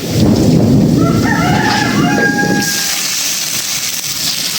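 Heavy thunder rumbles loudly and low through a rainstorm, fading into steady rain, while a rooster crows in the middle distance.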